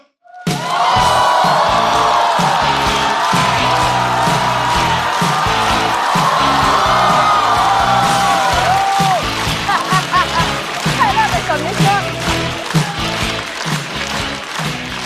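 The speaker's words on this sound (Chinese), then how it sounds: "掌声欢迎徐志胜" A stand-up comedy audience bursts into loud, sustained applause with whoops and cheers to welcome comedian Xu Zhisheng on stage, with the clapping thinning out toward the end.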